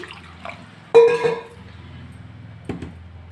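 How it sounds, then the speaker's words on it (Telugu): Water is poured from a vessel into a bowl of washed jackfruit seeds, making a short splash with a faint clink of the container afterwards. The kitchen is otherwise quiet. "దీంట్లో కొంచెం నీళ్ళు పోసి"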